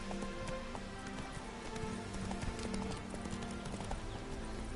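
A horse gallops in The Witcher 3 video game, its hooves making a steady rapid clip-clop rhythm close by under a constant bed of ambient noise.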